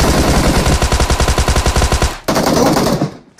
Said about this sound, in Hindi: मैप में सामने से फायरिंग आया